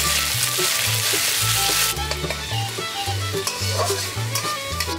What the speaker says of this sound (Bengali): আমি আদা বাটাটাকে খানিকক্ষণ একটু ভেজে নিয়েছি।